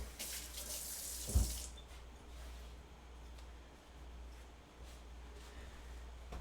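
Water running steadily from a kitchen tap while hands are rinsed, a close, continuous hiss with a brief gush and splash early on, then a soft even flow.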